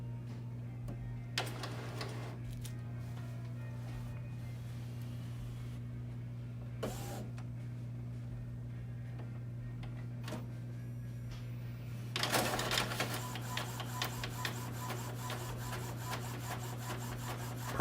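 An Epson EcoTank printer runs a tattoo stencil print job, with a steady motor hum throughout, occasional clicks, and a louder burst of rapid mechanical ticking and feeding in the last part, close by with no talk.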